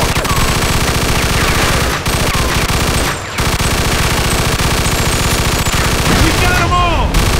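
Loud, sustained automatic gunfire in a Mafia II shootout crackles in rapid bursts, with brief pauses and sporadic shots near the end.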